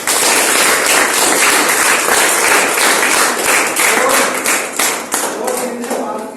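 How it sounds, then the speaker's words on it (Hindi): Audience applause for the participating children at a National Science Day science exhibition: loud, continuous clapping fills the clip, with a voice faintly audible beneath it as it begins to thin near the end. "तो जिन बच्चों ने भी पार्टिसिपेट किया है उन सबके लिए तालियां।"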